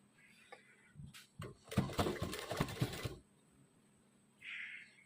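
A sewing machine stitching pants runs in a fast, rhythmic whirring burst of about a second and a half, preceded and followed by quieter clicks and fabric handling.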